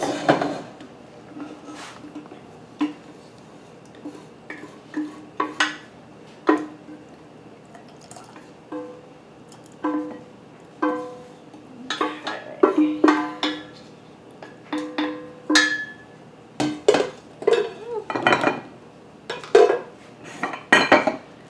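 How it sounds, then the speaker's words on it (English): A spoon repeatedly scrapes and taps against a metal pot to rake out leftover sweet cucumber pickle relish, producing irregular, close clinks and scrapes with occasional wet drips, growing busier toward the end. "by the time I rake this out that's left in the pot"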